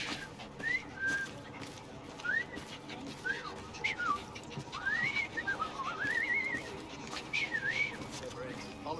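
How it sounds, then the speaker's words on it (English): A man whistles a short, wandering tune in Assassin's Creed Syndicate, a string of bright rising and falling notes over busy Victorian street ambience and chatter. "I've just learned to whistle."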